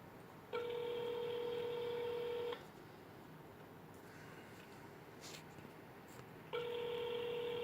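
Telephone keypad dialing tones: two steady, clear electronic tones, each about two seconds long, separated by a quiet gap filled with low room hiss.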